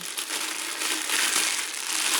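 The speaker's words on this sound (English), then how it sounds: "And we'll take it out of the bag" Continuous loud crinkling and rustling of a plastic bag as a Black+Decker BL188 drill is pulled out and handled up close, with no talking.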